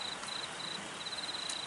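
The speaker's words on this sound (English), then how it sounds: "it's just raining and raining all day, not stop, all day." Steady rain falls all day outdoors, a constant soft hiss with a thin high insect-like whine running through it, no voices over it.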